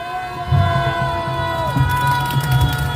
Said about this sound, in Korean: 크게 한번 박수로.